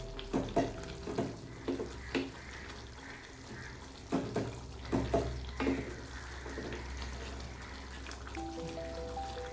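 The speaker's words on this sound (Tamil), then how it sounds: "நல்லா கொதிக்கட்டும்." Tamarind mixture bubbling and sizzling in a pan, with intermittent stirring scrapes and clinks, fairly close and steady throughout.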